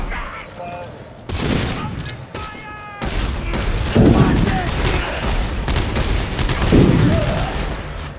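Grenade blast amid sustained gunfire in the video game Dead Space 3, dense continuous shooting with heavy booming impacts, voices shouting over the din.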